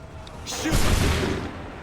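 A musket volley fired in Assassin's Creed 3: a loud, near, layered crack of many guns going off together, rolling into a booming, smoky rumble that lingers and slowly fades.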